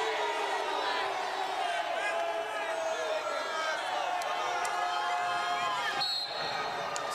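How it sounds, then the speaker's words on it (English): Arena crowd at a college heavyweight wrestling dual meet between Michigan State and Wisconsin, a constant loud wash of shouting and yelling that fills the whole stretch, with a commentator's voice faintly underneath. "Crowd begging for a stalling call here."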